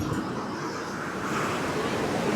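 Sea waves surge and wash against the shore at Gokarna near a temple, a continuous close roar of surf with wind buffeting the microphone.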